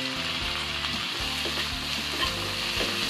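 Tomatoes sizzle and fry in a pan with ginger and garlic, a loud, continuous crackling hiss close up, with regular stirring scrapes through it.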